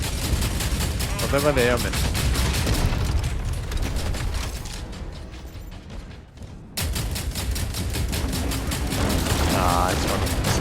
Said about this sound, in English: Let's get one of those giga shots again